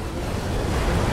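Loud, steady rush of surging, rising water and waves in a video game, a continuous roaring wash with no voices.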